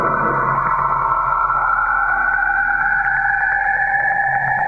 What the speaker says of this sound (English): its rings actually sing and make a sound frequency that sounds like this